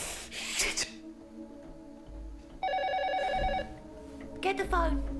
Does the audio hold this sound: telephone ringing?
yes